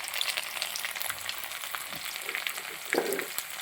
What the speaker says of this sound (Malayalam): കടുക് പൊട്ടി വരുന്നു.